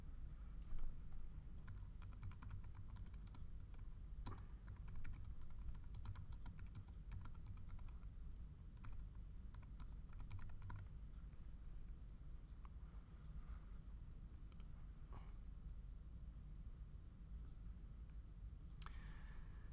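Steady typing on a computer keyboard, a continuous run of quick, light key clicks at close range over a faint background hum, with no talking.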